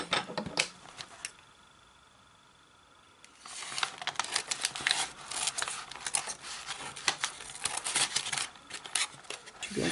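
Scissors cutting open a mail package, a run of crisp snipping and crinkling clicks, close and fairly loud, after a short quiet pause.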